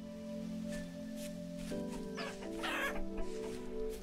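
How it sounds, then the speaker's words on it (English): Chickens cluck repeatedly in the video game Vintage Story, fairly close and clear over a steady tonal music bed, with a burst of busier clucking toward the middle and end. "Hello, chickens, and they are fast"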